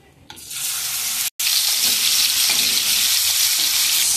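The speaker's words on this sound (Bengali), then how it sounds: "এবার কি চিংড়ি মাছগুলো ভেজে নেব।" Prawns coated in salt and turmeric hit hot oil and fry with a loud, sustained, hissing sizzle after a quiet start, briefly cut once.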